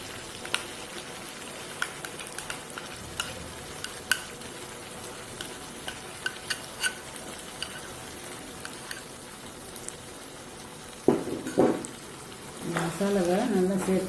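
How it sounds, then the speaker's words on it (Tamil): Ground masala stirred into frying chicken gravy: a steady low sizzle with scattered spoon clicks and scrapes, growing louder near the end, where a voice briefly speaks. "மசாலாவை நல்லா சேர்த்து அதாவது நல்லா கிளறணும்"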